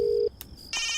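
A telephone line gives a short steady ringing tone, then a brief click and a higher electronic tone, heard clearly and close with no talking.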